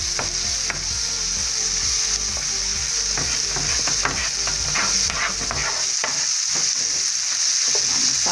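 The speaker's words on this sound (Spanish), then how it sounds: "Vamos a dorar muy bien este ajo con esta cebolla" Garlic and onion frying in a pan, a steady bright sizzle with stirring scrapes and clinks running throughout, close and fairly loud, with no talking.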